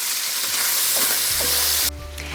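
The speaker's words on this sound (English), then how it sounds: "Let the pan and the heat do their job and brown what it is that you're cooking, because browning is where the flavor is." Meat or mushrooms browning in a hot pan for a lasagna béchamel, a loud, steady close sizzle and crackle that suddenly drops to a quieter hiss near the end.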